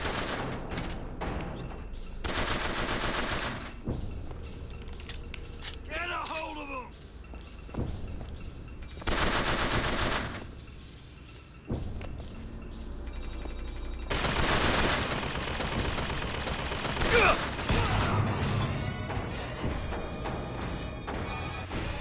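Sustained machine-gun bursts from a turret in the video game Bioshock Infinite, several long loud volleys with shorter gaps between them, accompanied by game effects and occasional talk.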